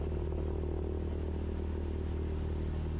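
Light aircraft engine held at takeoff power on runway 28 left: a steady, droning low-pitched roar with even propeller throb, constant and unbroken, heard from inside the cockpit with no talking.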